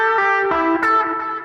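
Overdriven electric guitar plays a short pick-pick-pull lick, a few quick bright notes with the last one ghosted, close and alone with a touch of effects.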